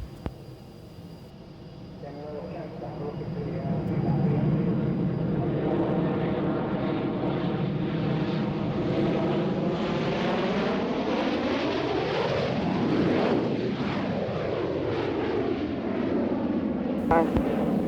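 A jet aircraft on a low approach at Waddington Airshow swells from a distant rumble into a loud roaring pass, its pitch sweeping down as it goes by overhead, with a brief radio voice over the noise.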